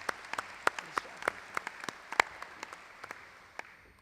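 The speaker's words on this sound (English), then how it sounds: "Can we please give Jack a round of applause for yet another accomplishment in his career?" Scattered, fairly faint claps from a small crowd at a Hall of Fame banquet, individual sharp claps spaced irregularly across a few seconds rather than a dense roar.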